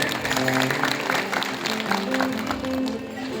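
Audience clapping at a satsang of Vishnu Giri Maharaj, a steady wash of applause from many hands, moderately distant, with faint voices and a sustained tone beneath, fading slightly toward the end.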